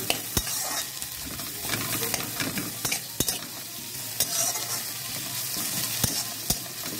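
Onion and garlic fry in a pan with a soft, continuous sizzle, broken by sharp clinks and scrapes of a spoon stirring at irregular intervals, close and moderately quiet.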